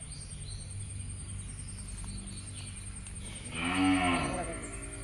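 A single loud, drawn-out cow moo rises near the end over a steady hum of crickets and faint background noise.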